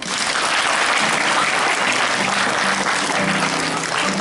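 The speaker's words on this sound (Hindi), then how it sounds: "इनके लिए आप जोरदार ताली बजाएं।" A school audience at a Children's Day event bursts into loud, dense applause that holds steady and continuous throughout, a close, full wash of many hands clapping together with no talking over it.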